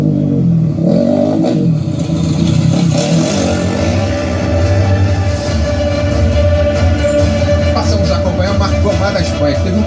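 A rally motorcycle engine on the 2014 Dakar Rally drones continuously at full throttle, rough and loud, with a busy wash of background noise throughout.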